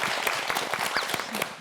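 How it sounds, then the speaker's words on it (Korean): A studio audience claps together in a brief, dense burst of applause, steady and fairly loud throughout, with no speech over it. "박수 한번 주세요."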